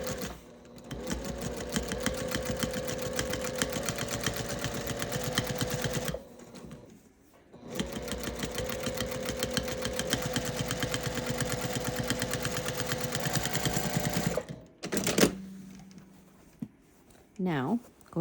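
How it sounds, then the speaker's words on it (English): A sewing machine stitches along the binding edge of a quilted gift bag in two long, steady runs with a short pause between them, close by, and a voice is heard talking. "I'm just sewing along the edge of the binding to make sure that I'm catching it in the"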